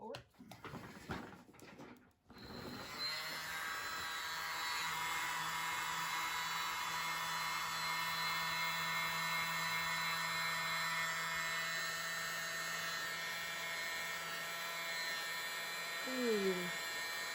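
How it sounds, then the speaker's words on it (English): A tiny handheld mini blower whirs with a steady high-pitched electric hum over an acrylic paint pour, running continuously for most of the stretch after a brief clatter at the start. "It's the world's smallest blower."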